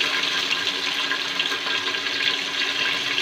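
Sliced onions dropped into hot oil for chicken curry, a steady close sizzle and crackle with no pauses.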